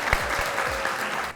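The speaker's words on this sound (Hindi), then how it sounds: "तालियां।" Studio audience applause on a talk show, a steady burst of clapping filling the short moment before cutting off abruptly at the end.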